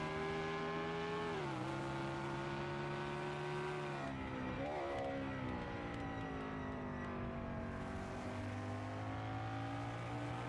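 Race car engines drone continuously during a sim racing endurance race at Le Mans, the pitch rising and dipping as cars overtake one another, close and steady with no talking.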